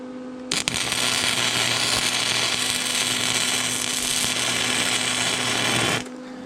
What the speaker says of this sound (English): I think I should weld the side more.